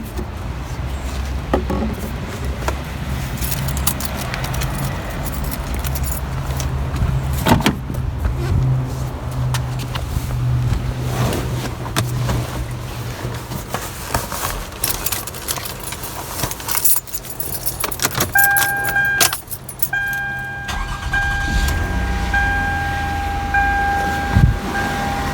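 A car engine idles during a Motor Medic engine flush for low oil pressure, a steady low hum throughout with scattered clicks and rattles and some higher tonal whines near the end.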